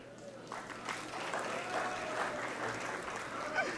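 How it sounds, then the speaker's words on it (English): Audience applause in a university hall at a web portal launch, a soft, distant, even patter of many hands with faint talk beneath it. "that means you have to applaud."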